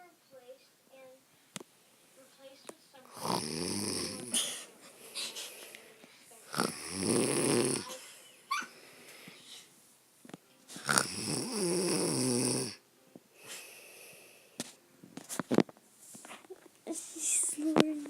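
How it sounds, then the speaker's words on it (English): A sleeping woman snores at night, three long, rough breaths roughly every four seconds, fairly close and moderately loud, with quiet room sounds in between. "I can hear her snoring."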